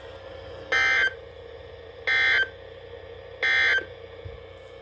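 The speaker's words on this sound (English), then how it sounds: "This concludes the weekly test of the NOAA weather radio warning alarm device." NOAA weather radio warning alarm test tones on transmitter KIH38 sound as three loud, harmonically rich electronic beeps, each about a third of a second long and evenly spaced, standing out clearly above a low background hum.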